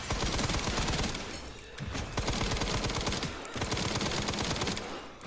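Rapid SMG gunfire in a Resident Evil game, dense continuous bursts of automatic shots filling the whole stretch, loud and close, with only brief dips between volleys.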